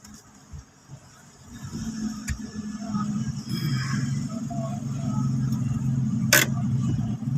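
A Hyundai Eon being brake-tested idles and rolls with a low engine hum that builds and grows steadier, broken by a few sharp clicks and one brief hiss or squeal near the end.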